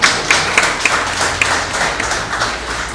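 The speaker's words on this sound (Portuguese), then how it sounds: "Uma salva de palmas para o novo Ari, por favor." A religious meeting audience claps for the new Ari, giving a few scattered, uneven claps over a dense room noise rather than a full ovation.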